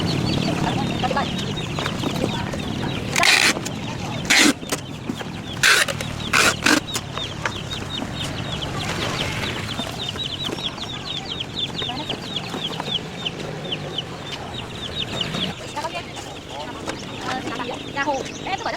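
Hồ chickens, a Vietnamese breed, cluck and cackle close by over a long stretch with a few sharp sudden sounds, while people talk throughout.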